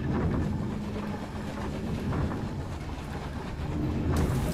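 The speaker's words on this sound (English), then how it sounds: "We are on a train." A train rumbles steadily through the night in Night in the Woods, a dense, continuous low roar with rattling texture and no voices.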